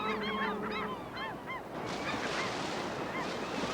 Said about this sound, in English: As they gather, so do the scavenger seagulls